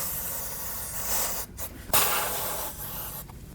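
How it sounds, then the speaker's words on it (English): Continuous aerosol spray of brake parts cleaner hissing close up around a Toyota Corolla oil drain area, briefly interrupted by a couple of short pauses before the spraying resumes. "I'm going to spray some brake parts cleaner around there"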